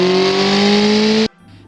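A modded car engine in BeamNG revs hard and steady with a strong harmonic drone that climbs slightly in pitch, loud and close, then cuts off abruptly into near silence.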